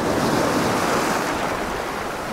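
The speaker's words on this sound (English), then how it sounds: "If I pull back, this is a big wave." Big ocean waves surge and splash against coastal rocks, a steady roaring wash of surf with wind noise across the microphone throughout, close and fairly loud with no voices.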